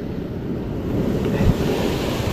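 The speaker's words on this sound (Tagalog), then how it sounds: "Lakas ng alon ay." Strong ocean waves off Palawan during popper fishing, a dense, close wash of surf with wind buffeting the microphone, steady and loud with a slight swell midway.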